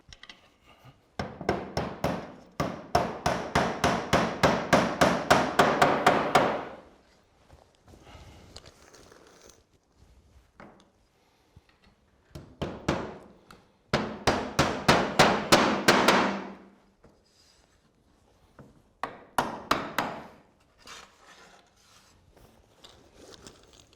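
Rapid bursts of hammer blows drive nails into roof battens, each run a quick series of sharp strikes, separated by short pauses with quieter handling sounds in between.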